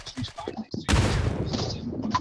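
Gunfire in PUBG New State: a sharp close burst of shots that rings out for over a second, following a stretch of quieter, broken sounds.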